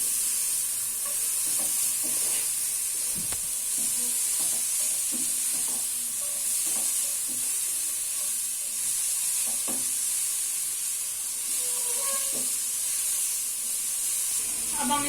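Chicken spring roll filling stir-fried in a pan, a steady close sizzle with scattered scraping stirs of a spoon against the pan throughout, no talking.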